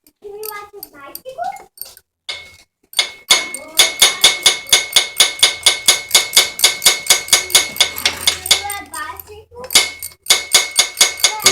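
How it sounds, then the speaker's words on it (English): A socket wrench with a 12 socket ratchets nuts down onto the studs of a 150cc Chinese motorcycle cylinder head, giving a fast, steady run of close, loud clicks that keeps going after a brief opening pause. "Get my socket wrench with my 12 and run that on down."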